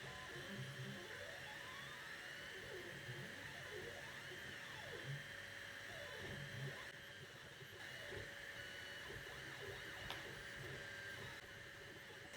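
A Fokoos FE20 laser engraver runs at 20 mm/s and 80% power, giving a steady, moderately quiet mechanical whine with repeated rising and falling motor sweeps as the head moves, alone without talk.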